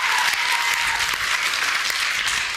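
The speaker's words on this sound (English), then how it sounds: "Round of applause for him, please." A live comedy club crowd at the Cochrane theatre gives a sustained, even round of applause during a stage comedy show, many hands clapping densely throughout with no voices on top.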